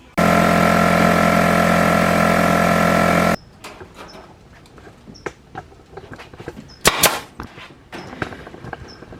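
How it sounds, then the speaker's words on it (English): An air compressor runs loud and steady for about three seconds while work is done on a double-decker rabbit hutch, then cuts off, leaving scattered clanks and knocks. "So we're using the compressor"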